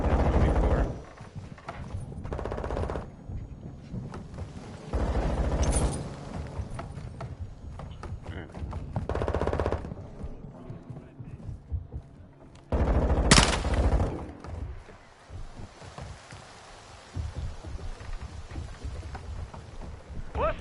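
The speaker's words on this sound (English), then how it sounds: "Hostiles launched a mortar strike." Mortar strike and gunfire in a Modern Warfare 2 battle, heard as repeated loud, broad bursts separated by quieter gaps, with heavy impacts and rattling shots spread across the clip.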